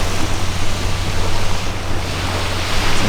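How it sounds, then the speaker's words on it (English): Ocean surf breaks on a beach in Iran. A continuous broadband wash of waves and wind buffets the microphone steadily and loudly, with no voices. "We've just come to the beach and we've found some sea turtles."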